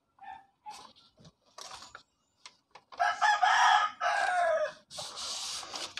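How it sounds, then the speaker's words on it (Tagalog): A rooster crows loudly nearby, a long strained call followed by another, with scattered clucks and small bumps before it. "Sobrang ingay ng manok."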